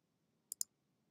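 A computer mouse gives a right click in Adobe Photoshop, two sharp quick clicks close together against near silence.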